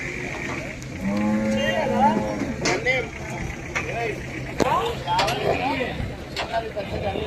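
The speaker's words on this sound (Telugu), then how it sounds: "ఇవన్నీ ప్యూర్ ముర్రా జాతి దూడలు ఇవి." Murrah buffalo calves, about a year and a half old, low with drawn-out moos among a crowd of voices and busy outdoor noise, with several calls overlapping at moderate distance.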